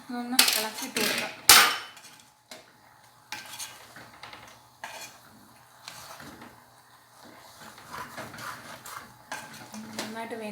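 Raw jackfruit avial is stirred in a pot, with loud clanks and scrapes of a utensil at the start, then softer intermittent scraping and rustling, while someone talks throughout.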